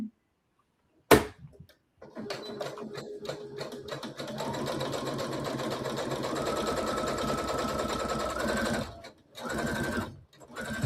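An SE700 sewing machine stitching slippery fabric for a zipper headband: a sharp click, then a steady rapid mechanical whirr of the needle that rises slightly in pitch, pauses briefly and resumes.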